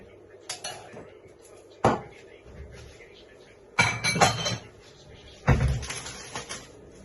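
Bowls handled on a kitchen counter while making Thai instant noodle soup: several separate clattering clinks and knocks of ceramic and cutlery, close and sharp, with quiet pauses between, a small bowl traded for a larger one.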